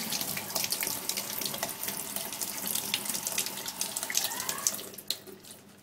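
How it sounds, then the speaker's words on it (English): Tap water runs steadily into a sink while a homemade three-oil soap bar is lathered by hand, with soft, fairly quiet splashing and rubbing and no talk. "Okay, so I'm going to lather my soap."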